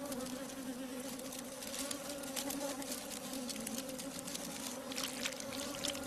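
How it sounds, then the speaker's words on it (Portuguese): Worker honey bees buzzing around a hive, a steady droning hum with a strong low tone and overlapping wingbeats from many insects, continuous and fairly close, with no talking. "abelhas operárias produzem incansavelmente mel para a colmeia"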